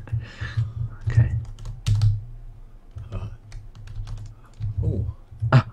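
Loud computer keyboard clatters in irregular bursts of rapid keystrokes during a Minecraft hide-and-seek session, close and prominent, with people talking between and over the typing.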